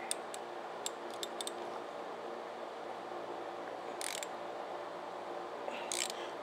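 A ratchet on a small V8 engine head, a 305/350 in an El Camino, works a rocker arm bolt loose: a few quick clicking bursts, then two louder ratcheting pulls, close and fairly quiet over a steady shop hum.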